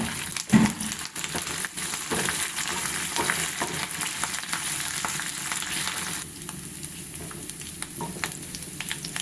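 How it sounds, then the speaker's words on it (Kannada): Curry leaves frying in a pan of hot oil for restaurant-style chicken pepper dry, a continuous close sizzle with crackles and the scrape and clatter of stirring, easing slightly toward the end. "ಕರ್ಬೇವಿನ ಸೊಪ್ಪನ್ನು ಹಾಕ್ಕೊಂಡು ಅದನ್ನು ಕೂಡ ಒಂದು ನಿಮಿಷ ಚೆನ್ನಾಗಿ ಫ್ರೈ ಮಾಡಬೇಕು"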